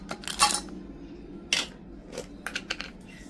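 A few ice cubes dropped into a mixer jar, giving several sharp, close clattering hits in quick clusters against a quiet background, with no voices.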